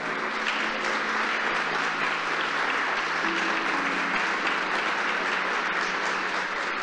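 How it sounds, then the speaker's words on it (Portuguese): A church congregation applauds during a sermon, producing a steady, even wash of many hands clapping at moderate volume throughout, with a faint tonal hum underneath. "Você pode aplaudir o Senhor Jesus?"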